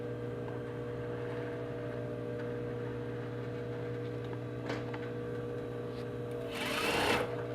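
Sewing machine stitching a fly front on a garment, a steady continuous hum with a brief louder burst near the end, heard alone.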